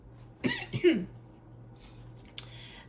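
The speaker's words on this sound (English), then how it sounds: "I'm coughing because there's this blockage" A close, sharp cough burst of two or three quick hacks, followed by quiet room tone and a faint click near the end.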